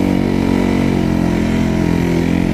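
A Suzuki snow bike fitted with a Timber sled kit runs its engine at a steady loud drone, a close buzzing hum held at part throttle with no voices.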